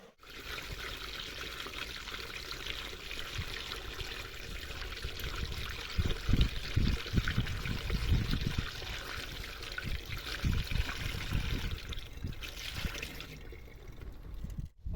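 Water is poured over sugar in a container while making sloe wine, a steady close trickle and splash that runs continuously and briefly grows heavier midway, with no talking.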